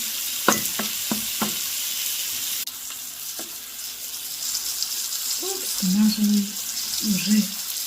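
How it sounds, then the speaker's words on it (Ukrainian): Steady loud sizzling of onion, carrots and chopped apples frying in a pan fills the clip, broken by a few sharp knocks and stirring scrapes. "додаємо подрібнені яблучка і ще смажимо хвилину дві"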